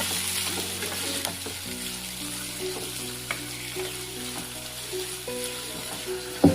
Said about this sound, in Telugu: ప్యాన్లోకి 2 టేబుల్ స్పూన్ల ఆయిల్ తీసుకోండి. ఇందులోకి 2 కట్ చేసిన ఉల్లిపాయ ముక్కలను తీసుకొని ఫ్రై చేయండి